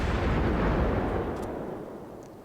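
Torpedo launch from an IJN Tenryu warship in World of Warships, a deep booming blast with a rumbling tail that fades over a couple of seconds, loud and without voices.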